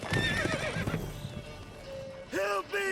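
Roach, the horse in The Witcher 3 video game, gives a short, loud whinny near the end, after a stretch of busy game sound with hoof clatter and other noise.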